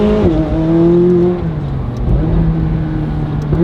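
Audi R8 V10 sports car accelerating hard on an open road, the engine roaring loud and close with rising pitch, a brief dip as it shifts, then pulling strongly again.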